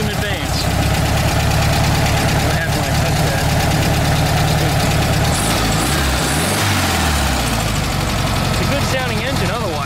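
An air-cooled VW Beetle engine with a freshly fitted 034 SVDA vacuum-advance distributor idles close up, giving a loud, continuous clattering putter that shifts slightly in pitch partway through as the idle is adjusted.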